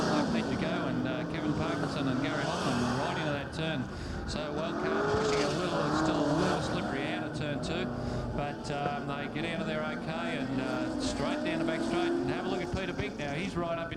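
Saloon race cars from 1985 Australian Saloon Car racing, a Mazda RX-7 rotary among them, roar steadily into a turn, engines droning loud and continuous under a commentator's voice.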